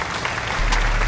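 A short burst of close hand clapping, dense and continuous like quick applause, with no talking.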